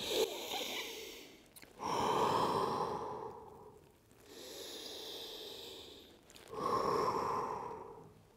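Deep, slow breathing during a morning floor stretch, with three long, airy inhale-exhale cycles close to the mic, each swelling and fading with brief pauses between, with no talking.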